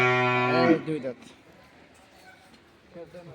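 A Sahiwal-type cow on a Dinajpur village dairy farm lets out a long, loud bellow that fades into quieter background talk.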